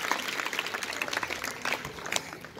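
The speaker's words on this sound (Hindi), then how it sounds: "जोरदार तालियां बजाइए बच्चे के लिए" Clapping from a school audience for a student called up to the stage at a government school prize event in a Haryana village, a steady patter of hands lasting throughout with no talk over it.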